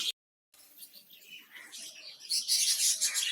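Dense, high-pitched chirping and twittering from a budgerigar colony, many small birds together, continuous and lively after a brief silent gap, growing busier toward the end.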